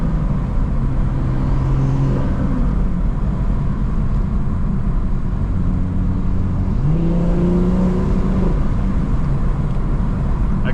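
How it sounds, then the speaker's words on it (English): A BMW 440i with an aftermarket intake and turbo inlet is driven, giving a steady engine drone with rising and falling whirring turbo induction tones heard from inside the car. "I can hear a lot of the induction noises now for the turbo. It's actually kind of loud."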